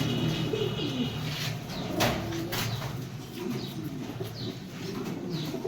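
Pigeons and doves at an Egyptian pigeon dealer's loft, with imported pied pigeons, squabs and homers, coo in steady overlapping calls, close and fairly loud, with light wing flapping and a faint voice in the background.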